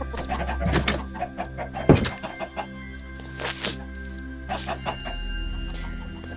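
Chickens in the video game Minecraft cluck in short, scattered bursts over a steady game background, several clucks spread across the stretch at moderate volume.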